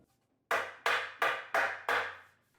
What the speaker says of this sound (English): I also used a wooden mallet to not damage or mar the wood